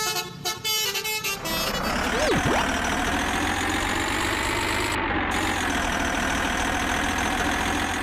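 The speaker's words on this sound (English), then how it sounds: "Cargo truck, a big truck that moves goods and packages from place to place." A big cargo truck that hauls goods and packages, its engine rumbling steadily and loudly after a short burst of rattling, with a brief rising tone near the start.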